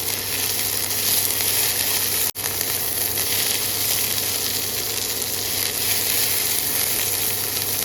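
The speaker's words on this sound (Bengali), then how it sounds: "ধনে পাতা কুচি দিয়ে মিডিয়াম ফ্লেমে এখানে তিরিশ সেকেন্ড মতো নাড়াচাড়া করে নামিয়ে নেব" Chopped coriander leaves and garlic fry over a medium flame in a constant, hissing sizzle, close and even, broken only by a momentary dropout partway through.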